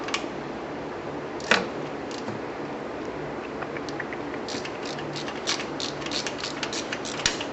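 A hand ratchet clicks faintly and irregularly during knock sensor replacement on a 1995-1999 Nissan Maxima, with scattered light ticks over a steady background hum and one sharper snap.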